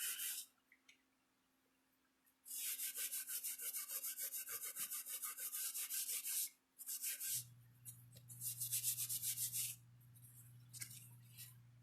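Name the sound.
filing copper corners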